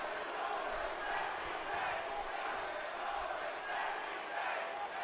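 Arena crowd in the wrestling video game WWE 2K19 roaring steadily at a Smackdown Live main event featuring Kevin Owens, a dense continuous wash of cheering with faint commentary underneath.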